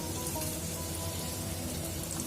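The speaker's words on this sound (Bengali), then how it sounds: "এবার আমি এগুলোকে গরম তেলের মধ্যে ভেজে তুলে রাখবো।" Small pieces of papad frying in hot oil give a steady, dense sizzle that runs unbroken at an even level throughout, with no voices.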